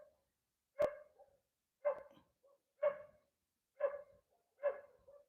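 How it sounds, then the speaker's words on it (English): Dogs bark outside on a night under a harvest moon in Southern California, five single barks spaced about a second apart, at moderate distance with a short tail after each. "Wonder why the dogs are barking."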